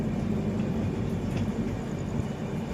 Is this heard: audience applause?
no